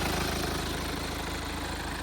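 A 2015 Kia Sorento 2.2 diesel engine idles steadily with a low, even rhythmic clatter, close and continuous throughout, with no voices.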